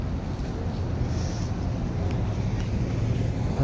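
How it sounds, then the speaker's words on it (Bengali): Police vehicles patrolling the crowded plain of Arafat during the Hajj, a steady low rumble of engines and road noise with a faint murmur of people in the background. "পুলিশের গাড়ি টহল দিচ্ছে।"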